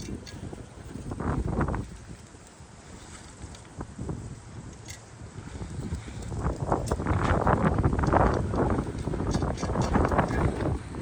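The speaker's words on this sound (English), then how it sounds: "I am blown away with the wind that we're getting today" Strong outdoor wind gusts roar and buffet the microphone in uneven surges, easing briefly then building louder toward the end, with no voices.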